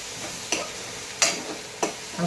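Bitter gourd and onion being sautéed in a pan, with three sharp stirring clatters at even intervals over a soft background sizzle, no talking.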